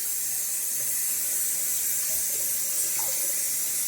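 Tap water runs steadily into a bathroom sink after a wet shave, a continuous close hiss and splash with no talking.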